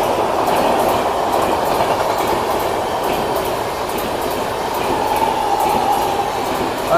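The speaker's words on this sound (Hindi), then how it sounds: "Antyodaya superfast express" An Antyodaya Superfast Express passing close by on electric-hauled rails, a loud continuous rumble and roar with rhythmic clickety-clack of wheels over joints and a faint squeal near the end.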